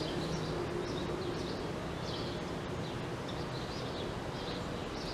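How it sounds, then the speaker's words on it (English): Garden birds chirp in repeated short, high calls over a steady wash of outdoor background noise, moderately near and with no talking. "I hear my birds."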